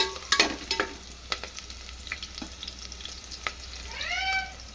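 Onions frying and stirred in a pan for tomato rice, with a quiet continuous sizzle, a few sharp clinks of the spoon against the pan, and a cat meowing briefly near the end.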